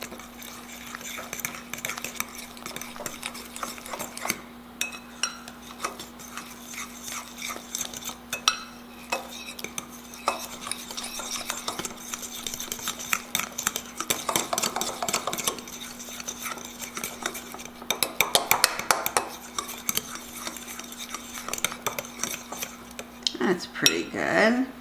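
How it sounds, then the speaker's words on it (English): A fork whisks milk and egg in a bowl for a pork potpie crust, giving a steady run of rapid metallic clinks and scrapes against the bowl over a low background hum, close and continuous for about 25 seconds. "I'm just going to use a fork to stir this up."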